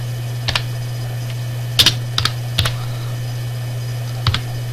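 A few scattered computer keyboard keystrokes tapped while typing a chapter heading, single clicks and quick pairs spread out over a steady low electrical hum, with no speech.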